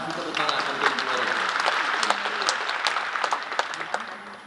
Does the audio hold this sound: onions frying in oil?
no